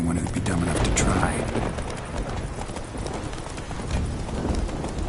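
Rhythmic galloping hoofbeats of a horse in The Witcher video game, loud and close, with brief voice lines from the game over the running steps.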